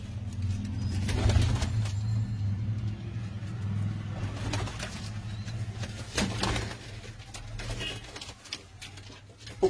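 Pigeons kept by a fancier in Kotli coo in low, repeated throaty phrases close by, with faint traffic noise and a few sharp knocks in the background.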